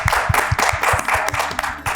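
Studio audience applause for a Hindi Eid television show's crew, producers and writers, a steady run of claps with rhythmic low thumps beneath, continuous and fairly loud for the whole stretch.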